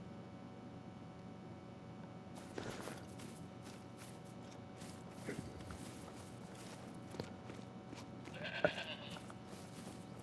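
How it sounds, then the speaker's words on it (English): Goats bleat now and then in the hunting video game theHunter: Call of the Wild, short calls over quiet footsteps and soft ambient noise, faint and somewhat distant across about ten seconds. "We do have goats coming in."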